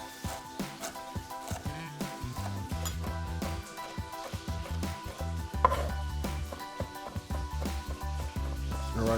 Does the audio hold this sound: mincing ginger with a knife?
yes